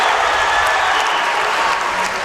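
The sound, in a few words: standing ovation for the national anthem in a gym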